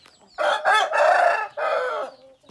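Chickens on a farm with a rooster crowing loudly and close, a long drawn-out call broken into several strained segments, followed by a short cluck at the end.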